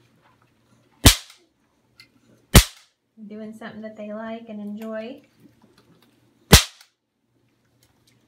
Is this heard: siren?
no